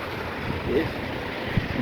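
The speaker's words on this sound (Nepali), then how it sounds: "भयङ्कर पानी परिरहेछ" Heavy rain falls over the city of Bucharest, Romania, a steady, dense hiss of downpour that stays even and close throughout, with a brief low thump partway through.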